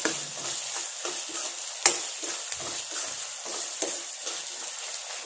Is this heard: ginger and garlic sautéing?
yes